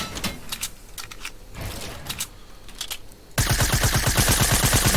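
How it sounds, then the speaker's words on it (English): Gunfire from an opponent in the battle royale game Fortnite: a rapid burst of shots that turns into a loud, dense volley near the end, following quieter scattered shots. No talking. "this guy's gonna try to shoot me and try to tag me up as much as he can"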